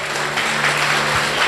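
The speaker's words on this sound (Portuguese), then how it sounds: "Vale uma salva de palmas ao Senhor Jesus?" A church congregation bursts into applause during a sermon, producing a loud, even wash of clapping that holds steady for about a second and a half.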